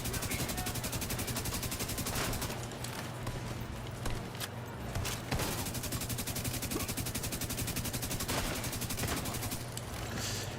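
Continuous automatic gunfire from a firefight in the video game The Division 2, with dense rapid shots running throughout and a steady loud battle mix with no pauses.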